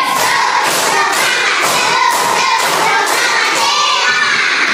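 Class of young schoolchildren doing the 'tepuk semangat cowboy' clapping chant, loud group hand claps and thumps in a quick rhythmic pattern mixed with their shouting voices, filling a classroom.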